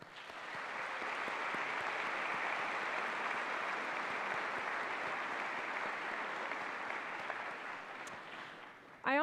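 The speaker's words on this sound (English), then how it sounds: "So let's all applaud them." Applause from the audience at a dental school white coat ceremony honoring dental and dental hygiene students, a dense, even wash of clapping in a large hall that holds steady for several seconds before tapering off.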